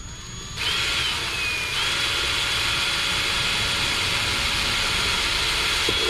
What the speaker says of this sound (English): Drill this the rest of the way out.